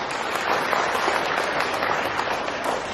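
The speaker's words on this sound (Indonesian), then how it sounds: "Tepuk tangan buat Anda semua." Dense applause from a seminar audience at a business talk, steady clapping throughout with no pauses.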